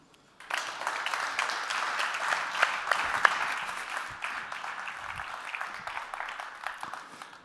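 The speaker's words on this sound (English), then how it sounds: "So please give a warm applause for Martin." Audience applause at a tech conference talk welcoming the presenter on stage, a dense steady wash of many hands clapping that starts after a brief silence and holds evenly throughout without talk.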